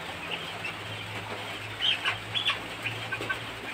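Chicken clucking in the morning, a few short, fairly faint calls over a steady low background hum, with no talk.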